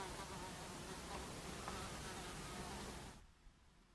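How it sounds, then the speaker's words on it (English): A bluebottle fly buzzes continuously around an indoor room, a faint steady drone that drops away abruptly near the end, with no talking. "there's been a blue bottle hanging around in here, buzz all over the place"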